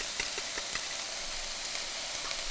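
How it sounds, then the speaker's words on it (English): Cooked lo mein noodles sizzle steadily in a hot pan, a dense frying hiss with a few soft crackles and light stirring clicks, close and continuous with no voices. "we're going to add the cooked lo mein noodles. Woo, sizzle."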